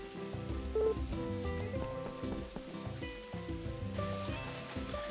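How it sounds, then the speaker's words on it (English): Rain pours in the farming video game Story of Seasons: A Wonderful Life as a steady patter and hiss on surfaces, set under soft game music that runs the whole time. "It's kind of pouring outside right now."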